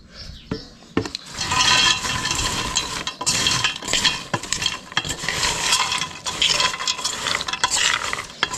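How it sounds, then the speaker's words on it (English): Liquid pours steadily into a pot for several seconds, a rushing, gurgling splash broken by small clicks and knocks. "I'll pour a good amount in."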